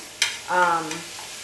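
Food browning in a pan for a low-carb quiche, stirred and broken up with a spatula or potato masher: scraping stir strokes over a soft sizzle, close and alone.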